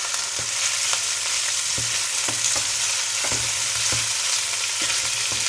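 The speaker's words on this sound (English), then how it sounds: "Now we'll add our beef. And like I say, we're just looking to sear it." Beef sears in a hot pan for a hearty stew, giving a loud, even sizzle that never lets up, with scattered light pops and taps throughout.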